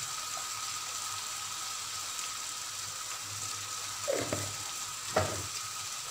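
Turmeric and coriander powder sizzle steadily in a hot pan, a constant frying hiss with a couple of brief stirring scrapes near the end.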